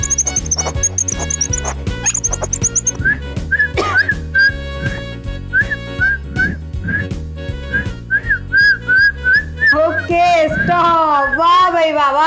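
Contestants take turns whistling in a timed contest during a ladies' kitty party game show, sharp repeated whistle bursts in quick rhythm, loud and close, with music and chatter between turns.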